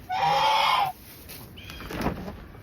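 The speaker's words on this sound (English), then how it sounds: "Definitely a favorite, a fruit favorite with my chickens." Chickens cluck in a winter yard, with one loud, close burst of clucking early on, then quieter fowl sounds after a pause.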